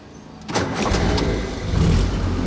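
A Jeep engine cranks and catches after half a second, then settles into a loud, close idle with a brief rise in revs near the end.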